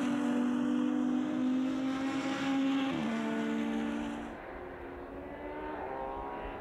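Lotus Cup race cars lapping Donington circuit during a race, two cars running together: a loud, steady engine drone with a pitch shift as they pass close by, then fading slightly into continuing engine noise.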